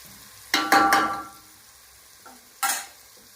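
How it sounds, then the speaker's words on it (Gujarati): Masala with added tomatoes cooks in a pan for Kathiyawadi-style dal baati, giving a few short bursts of spoon stirring and scraping with a light sizzle, followed by a quiet pause and one more brief stir. "મસાલાને થોડીક વાર ચડવા દઈએ આપણે"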